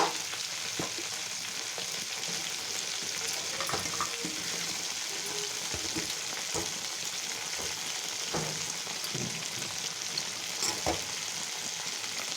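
Fish frying in a pan of oil, a steady close hiss of sizzling that holds for several seconds, broken by occasional soft taps and clicks from a utensil, with no voices.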